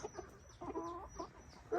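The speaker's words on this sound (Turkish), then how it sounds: "Bir tane serama tavuğumuz var." Serama chickens cluck softly in a coop on a cold day, a few short quiet clucks alone with a faint high whine behind them.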